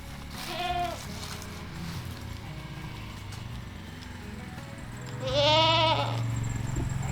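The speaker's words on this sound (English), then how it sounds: "Tanya's gonna go ahead and let these goats out real quick" Goats bleat in two separate bursts, one short call near the start and a louder, longer one later, over steady low farmyard rumble and background noise.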